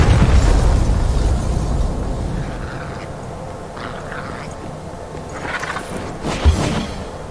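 A city crumbling apart in Devil May Cry 5, heavy rumbling destruction that is loudest at the start, then settles into a steady roar with scattered bursts of debris and one sharp thump near the end.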